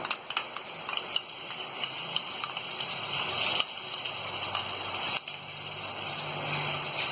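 Ground poppy seed, coconut and garam masala paste frying in a pan for nargisi kofta, a steady dense sizzle with occasional stirring scrapes, close and continuous throughout.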